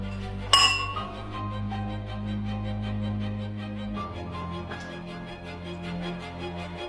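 Glasses clink in a toast, one bright, sharp chime near the start ringing over steady background music.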